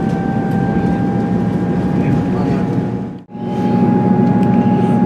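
Train pulling out of Wellington station in Shropshire, a steady low rumble with faint tonal hums from the carriage, continuous and close, with a brief dip partway through before the running noise resumes.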